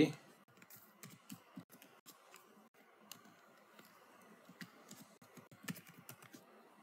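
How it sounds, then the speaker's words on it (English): Typing on a computer keyboard to search for a user in Oracle Fusion buyer setup: a quiet, steady run of light key clicks with irregular rhythm, close and alone. "let me just search the name Raj or let me just search it by the email id erp"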